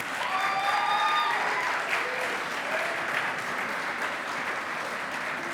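A student audience applauds the Guild staff at a university Guild officer elections event, with steady, dense clapping throughout and a few faint whistles or cheers early on.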